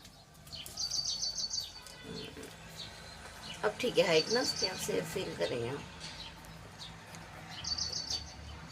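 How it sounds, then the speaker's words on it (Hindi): Small birds chirp in short, high bursts near the start and again near the end, with a busier stretch of calls in the middle, all under steady conversational speech from people nearby. "बहुत चिड़िया आती है हमारे यहाँ, बहुत सारी"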